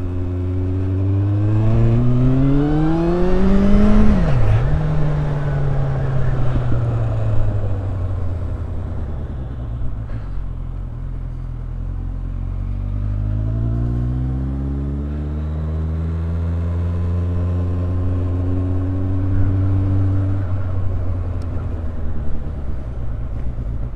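A car engine with a newly fitted exhaust revs up hard, climbs and drops, then swells again and holds a steady, deep drone while driving, loud and close throughout.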